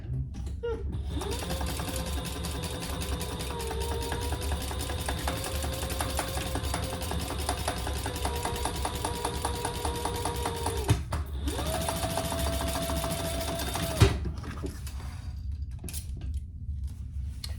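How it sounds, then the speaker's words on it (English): A sewing machine stitches the seam of a fabric crossbody bag in two long runs of rapid mechanical whirring and clatter, pausing briefly between them, then stopping with a clunk. "we're going to sew that together at the seam allowance in the pattern"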